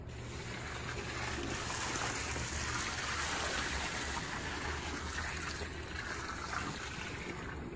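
Water gushes steadily into a termiticide mixing tank while a Termidor or Taurus solution is prepared for termite treatment, a continuous close, fairly loud pouring rush lasting the whole stretch with no talk.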